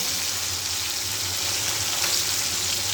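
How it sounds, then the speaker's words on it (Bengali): Fish frying in oil in a wok, a steady bright sizzle and crackle holding evenly close to the microphone for a few seconds, with no voices. "এই যে দিয়ে দিয়েছি কড়াইয়ে, হালকা করে মাছটাকে ভাজা করে নেব।"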